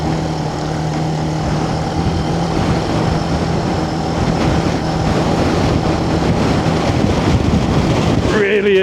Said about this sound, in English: Really is very windy up here today